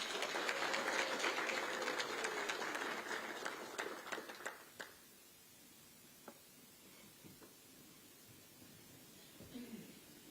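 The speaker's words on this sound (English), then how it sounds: "Another hand of applause." Audience applause at a Zimbabwe tourism and hospitality policy launch, a steady wash of clapping that fades out after about five seconds, leaving faint scattered claps and low room noise.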